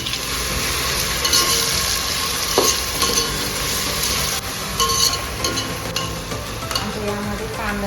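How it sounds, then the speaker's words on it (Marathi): Capsicum sizzles in hot oil in a pan for pav bhaji while being stirred, a steady crackling fry broken by scraping and occasional clinks of the spoon, close and continuous. "पहिल्यांदा आपण ढबू मिरची टाकणार. ती चांगली तेलामध्ये परतून घ्यायची."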